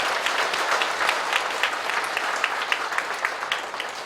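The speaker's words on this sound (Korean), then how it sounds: "우리 사모 목사님에게도 박수 한번 드리겠습니다" Applause from a congregation during a Korean Full Gospel church thanksgiving service, steady dense clapping from many hands filling the hall throughout, with no talk over it.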